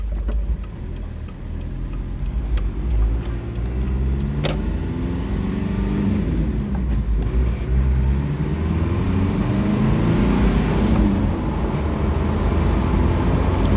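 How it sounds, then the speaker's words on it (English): A 1996 Mazda Proceed Marvie B2690 turbo diesel 4x4 with a five-speed manual and a 2-inch lift cruises at about 100 km/h, giving a loud, steady cabin drone of engine and road noise throughout. "Cruising at typical highway speeds, about 100 kilometers an hour or about 60 miles per hour"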